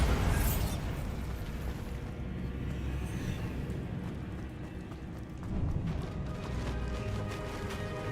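A Bombarda spell blast in the video game Hogwarts Legacy, a burst and rumbling boom at the start that fades into a low steady game ambience, moderately loud.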